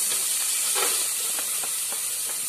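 Garlic sautéing in hot coconut oil for a seafood pasta: a steady broadband hiss of sizzling with a few soft clicks and pops, close and even throughout, with no voices.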